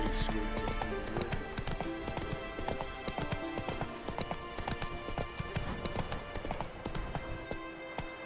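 Roach the horse in Witcher 3 gallops with a rapid, continuous clip-clop of hooves, loud and steady, layered with game ambience and a faint voice.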